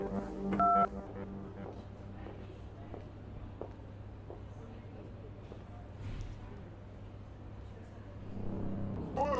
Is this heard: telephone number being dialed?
yes